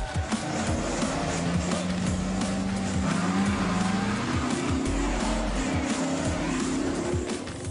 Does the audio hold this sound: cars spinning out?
yes